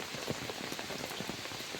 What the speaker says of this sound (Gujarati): જોઈ રહ્યા છો કે ડીસામાં કેવી રીતે વરસાદ વરસી રહ્યો છે